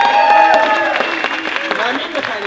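A circus audience bursts into applause for a performer, clapping loud and close at first, then thinning out while a voice talks over it.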